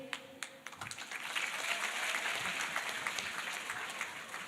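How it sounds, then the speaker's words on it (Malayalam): Scattered claps quickly swell into steady, moderately loud applause from a school literary festival audience of students, continuing evenly without speech. "വിശന്ന കയ്യടി മാത്രമേ ഉള്ളൂ, ഊർജ്ജമുള്ള കയ്യടിയൊന്നുമില്ല?"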